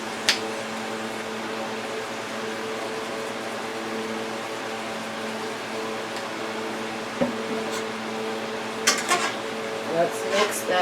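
Penny wheat pasta with ground sausage, tomato sauce and black pepper is stirred in a pan, faint scrapes and clinks over a steady hum, with a few louder knocks toward the end.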